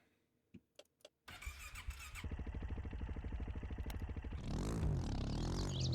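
A four-wheeler in the game Mon Bazou starts up. A few clicks and knocks come first, then the starter cranks with a rhythmic chugging, and the engine catches into a steady, louder idle, close and alone.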